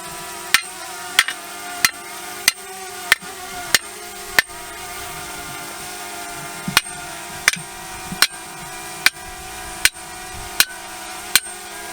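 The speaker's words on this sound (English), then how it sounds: "I'm going to use my sledgehammer and drive it in." A sledgehammer drives a metal T-post into soft plowed cropland, each blow a sharp metallic clang in a steady rhythm, about fourteen strikes with a short pause midway, heard close and alone over light outdoor background.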